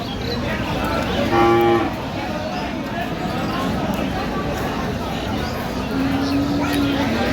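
A cow lets out a low moo, and another longer moo follows a few seconds later, over a steady background of murmur and outdoor noise at a cattle market in Dinajpur.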